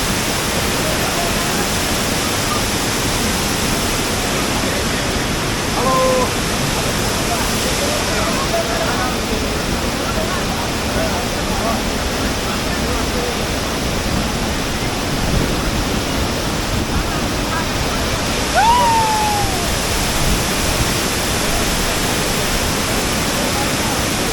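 A constant thundering roar of water comes from Savatkada waterfall in Konkan, running high in the rainy season, loud and near throughout, with a couple of brief faint voices or calls rising over the rush.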